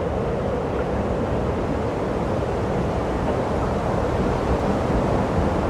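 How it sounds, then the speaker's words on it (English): Strong wind buffets the microphone on a windy day on Slemish, a constant loud roar and rumble with no break, alone and without voices. "It was a windy day, wasn't it? You can hear the wind."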